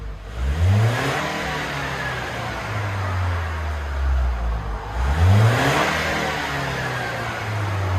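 Stock Jeep Wrangler engine revving twice, each rev swelling and falling away over a steady idle, fairly close and moderately loud with no talk.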